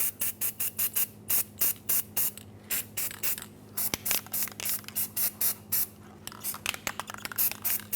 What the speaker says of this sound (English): I'm going to use some anti-seize to coat this surface